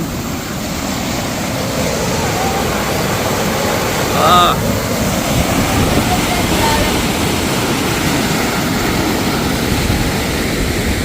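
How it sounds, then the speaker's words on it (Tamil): Fast water rushes steadily out of Kattukarai tank in Jaffna, a loud, continuous roaring wash that holds evenly from start to finish. "இப்படியே பாருங்க இதால எவ்வளோ வேகமா வருது தண்ணி"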